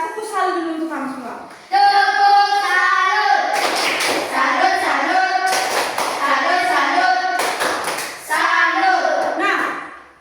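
Primary school pupils in a classroom doing a rhythmic salute clap, chanting together in unison and breaking into several loud bursts of group clapping between the chanted lines.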